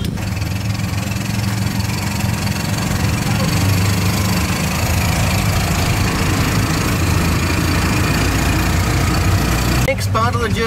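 A motorized tricycle taxi in Bohol, Philippines, idles with a steady, loud, low engine rumble that stays constant throughout, with a brief sharper sound near the end.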